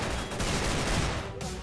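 Rapid gunfire from a Counter-Strike match between G2 and Ninjas in Pajamas, a dense continuous fusillade of overlapping shots filling the whole moment at steady loudness.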